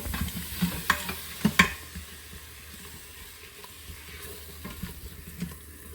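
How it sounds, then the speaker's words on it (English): A utensil scrapes and clinks against a pot as food is stirred at close range, with a few sharper knocks early on and a faint sizzle underneath. "So you want to stir that up really well."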